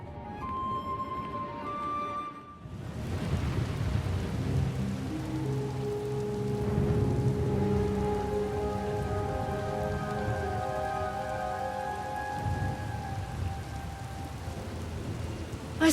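Heavy rain pours steadily through a thunderstorm in SWTOR, with a low rumble of thunder beneath a constant hiss of drops; a few tonal chimes sound near the start.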